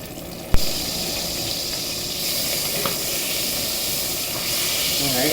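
Butter and olive oil sizzle in a large pan being heated for asparagus, a steady hiss that starts with a sharp click and holds close and even for several seconds.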